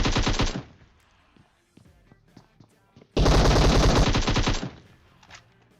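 Automatic gunfire in the mobile battle royale game PUBG Mobile: a loud close burst, then scattered distant shots, then another long rapid burst, with no talk.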